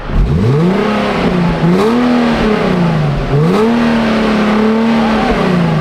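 A stock-exhaust Infiniti G37 revs up twice, each blip climbing sharply then settling back to a steady idle-like drone, loud and close throughout.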